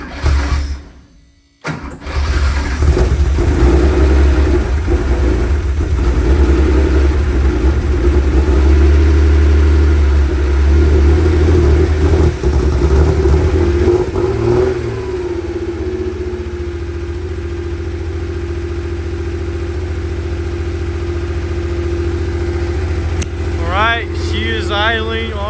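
An abandoned Porsche 911 engine, revived after 35 years, idles steadily with a low, even rumble, loud and close, after a brief cut-out early on, with faint chatter near the end.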